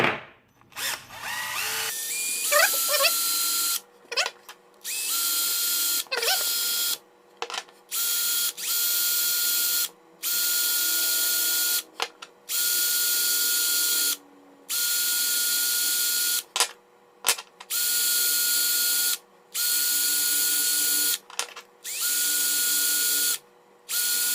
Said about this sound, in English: you need a grinder. This one, you will grind the surface of each battery.